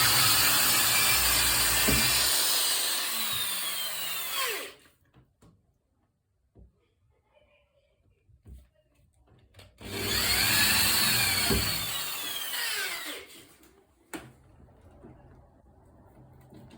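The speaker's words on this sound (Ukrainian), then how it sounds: "Треба тепер в ці отвори закручуємо шурупи, які йдуть в комплекті." Supplied screws are driven in while a Bosch Series 8 dryer is stacked on a washing machine. Two loud, whirring bursts of several seconds each are separated by a quiet pause with faint clicks.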